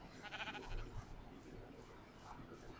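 A faint sheep bleat sounds in a Minecraft-style video game, with a couple of short wavering calls over soft ambient game noise and no talking.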